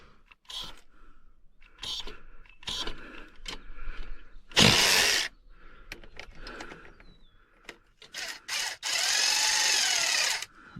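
Electric ratchet at work on a 1991 Ford F450 dump truck, giving several short buzzing whirs and a couple of longer loud bursts near the end, with rattling tool clatter and bits of talk between them.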